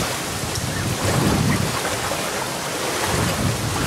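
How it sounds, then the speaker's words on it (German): Heavy thunderstorm rain pours steadily in a dense, continuous roar with a low rumbling undertone, close and loud throughout, with no voices. "jetzt geht's richtig los mit Regen."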